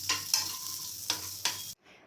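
Spatula scrapes and stirs through a spiced potato and chili mixture with turmeric and curry leaves in a pan, four quick strokes over a soft sizzle before it cuts off.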